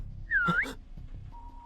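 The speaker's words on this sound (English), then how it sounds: "I suddenly heard a high-pitched whistle." In the video game Steins;Gate 0, a single high-pitched whistle signal rises briefly, clear and fairly loud, against a quiet background.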